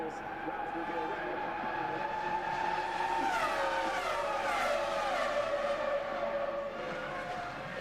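Formula 1 cars race at Silverstone during the 2001 British Grand Prix, with engine whine sweeping in pitch as a car passes, all beneath continuous commentary.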